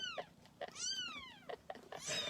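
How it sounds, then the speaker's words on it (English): A cat meows several times in a row, each call rising and falling in pitch, fairly close and clear with short pauses between calls and no talking. "so we've got cats everywhere because they all come"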